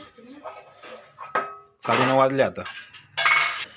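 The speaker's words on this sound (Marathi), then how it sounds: "इथं आता चालू आहे भांडी धुवायचं काम" Dishes, pots and cutlery being washed in a home kitchen in the morning, with sharp metallic clinks and clattering bursts, one ringing pot-like clang, set against a nearby voice speaking.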